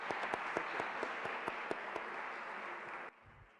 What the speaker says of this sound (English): I will ask for a warm round of applause for our speaker